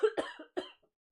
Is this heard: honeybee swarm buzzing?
no